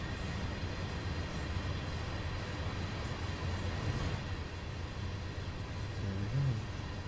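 A train rolls along in the Train Simulator 2017 video game, giving a constant, even rumble of rail travel that holds steady for several seconds with no talking.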